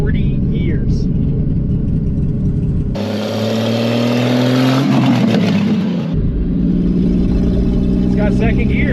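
An old 1972 Pontiac Ventura Sprint engine, running for the first time in 40 years without an exhaust, runs and revs, its pitch climbing and falling with rough mechanical rumble, while people talk around it.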